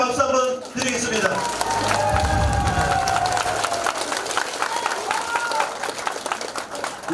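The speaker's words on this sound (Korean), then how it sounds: "우리 다시 한번 힘내시라고 더 뜨겁게 박수 한번 드리겠습니다" A crowd at a Democratic Party campaign office opening for a mayoral candidate in Mokpo bursts into loud, sustained applause and some cheering, with voices and a loudspeaker tone in the room.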